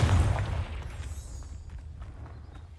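A Confringo blasting spell goes off in Hogwarts Legacy, a single loud low boom at the start that decays into a rumbling tail, with faint game ambience continuing after it.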